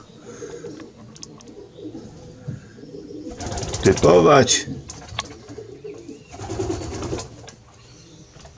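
Pigeons coo and flutter close by, a louder burst of cooing in the middle, while someone speaks briefly over them.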